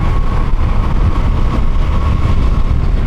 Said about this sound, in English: This bike is so much fun to ride